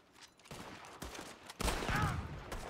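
Cannon blasts and gunfire in the video game Red Dead Redemption 2, during a beach fight with boats landing, building from scattered shots to a loud, dense barrage near the end.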